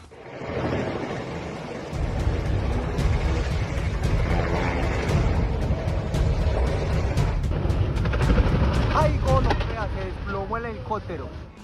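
A helicopter carrying five tourists loses control during takeoff in Medellín, Colombia: a loud, steady engine and rotor roar builds after a brief quieter start, with shouting voices rising over it toward the end.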